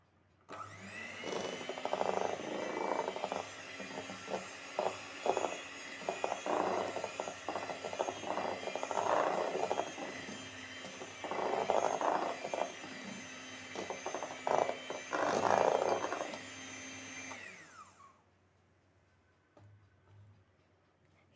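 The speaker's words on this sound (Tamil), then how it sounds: "இப்போது இதை ஃபஸ்ட்டு ஸ்பீடில் வச்சு ஒரு 5 செகண்டுக்கு நம்ம வந்து பீட் பண்ணிக்கலாம்." An electric mixer on its lowest speed whirs steadily through cake batter with oil, with rattling knocks from the beaters against the bowl, before cutting off abruptly near the end.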